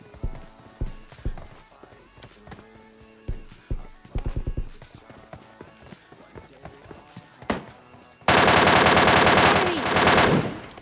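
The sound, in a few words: gunfire in a video game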